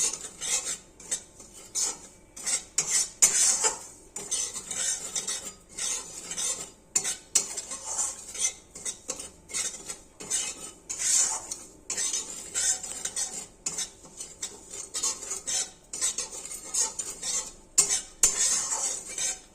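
A spoon scrapes and stirs a sweet filling with ghee in a metal pan, giving steady rhythmic clinks and scrapes close up, with no talking.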